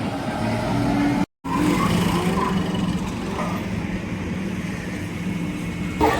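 Engines rumble steadily at a busy Solapur bus stand, with long-route state transport buses idling and moving nearby in a continuous loud drone and no talk.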